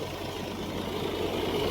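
A tractor engine runs steadily during soybean threshing on a farm, a short, even, low throbbing drone at moderate distance that stays constant throughout, with no speech.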